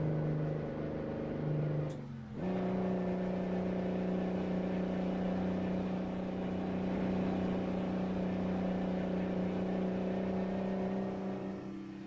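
A Mack R truck with a Detroit engine in American Truck Simulator drones steadily under a heavy load, a brief dip and shift around two seconds, then a constant loud engine hum with no talk.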